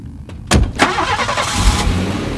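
A car engine cranks and catches, then runs steadily at close range while the vehicle sits on a steep 30% incline test rig with only a little fuel left in the tank, in a 1989 vehicle test.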